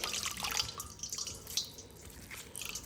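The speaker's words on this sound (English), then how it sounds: "then you're going to wring it out." A wet rag soaked in water and vinegar is wrung out by hand, sending water dripping and trickling back into a bowl or sink; the patter is close and fairly quiet, in uneven spurts.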